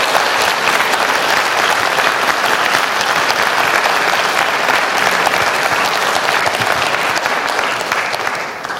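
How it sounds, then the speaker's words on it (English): A big round of applause from a retreat audience at a Buddhist stupa gathering, dense and loud, steady for nearly nine seconds and tapering slightly at the end, with no talk over it. "I ask you to do it now with a big round of applause"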